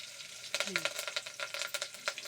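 Garlic and curry leaves sizzle in hot oil while a home-cooked vegetable and lentil dish is being made. It is a steady, soft crackle with quick spattering pops, quiet and close, and no talk.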